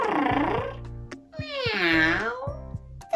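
A human voice imitates a cat, giving two drawn-out, expressive meows with rising and falling pitch, close and clear, over soft background music.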